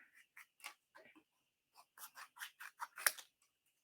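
Scissors fussy-cutting small pieces of stiff watercolor paper, a series of close, crisp snips in short bursts with brief pauses.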